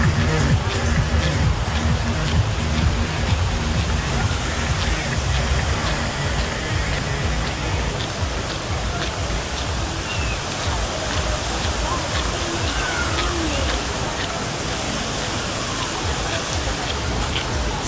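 Water misters spraying a fine cooling mist at The Land of Legends water park in Turkey, a loud, continuous hissing spray that holds steady throughout with no pauses.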